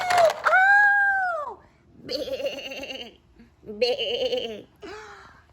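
Wavering, nasal sheep bleats come twice during toy play with dolls, a toy car and farm animals, following a loud vocal exclamation.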